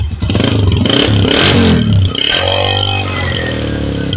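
Close, loud Honda Deluxe 125 motorcycle engine revving up and dropping back to a steady thumping idle, with some mechanical clatter in the throttle blips.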